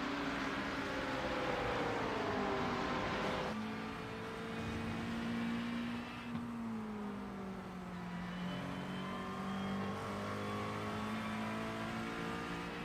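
GT3 race cars climb the hill at Watkins Glen in a racing video game, engines droning loudly and continuously with shifting pitch as cars pass and change gear.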